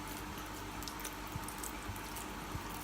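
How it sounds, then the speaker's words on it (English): Water poured into a smoothie in a home kitchen blender, a quiet steady trickle with faint dripping, close by and alone with no talk. "So I'm also going to add a little bit of water."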